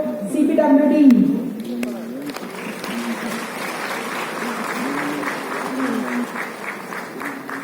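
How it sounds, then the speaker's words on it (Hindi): A loud, sustained round of applause from a seated audience greets a civil executive engineer at a public works department foundation day ceremony, rising after a brief stretch of a voice on a microphone. "जोरदार तालियों से स्वागत कीजिए श्री रितेश कुमार अग्रवाल"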